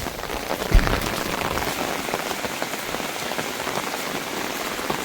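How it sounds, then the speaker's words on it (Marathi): Steady rain patters densely on a surface, a continuous hiss of drops close by with no voices. "रात्रीपासून कालच्यापासून पाऊस पडतोय"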